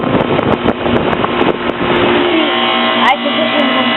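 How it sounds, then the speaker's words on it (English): A heat pump compressor at start-up running loud and close, a rough rumbling drone with a pulsing beat, plus buffeting wind noise on the microphone and a brief rising chirp near the end. "The compressor quieted down."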